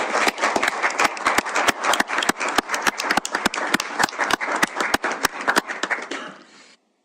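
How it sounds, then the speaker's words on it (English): An audience at a Billings city council meeting claps steadily for about six seconds, a dense stream of sharp hand claps that stays fairly loud and close before fading out abruptly. "can we give Kevin just a round of applause?"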